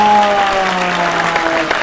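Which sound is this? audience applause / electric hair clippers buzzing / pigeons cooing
audience applause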